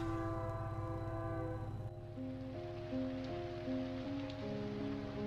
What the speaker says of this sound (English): Oh, and the freaking train's back.